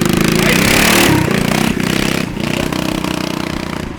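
A Predator Ghost mini trike engine revs hard and loud up close, a buzzing, rattling roar that eases slightly partway through and then holds steady.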